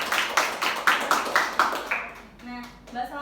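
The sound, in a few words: classroom applause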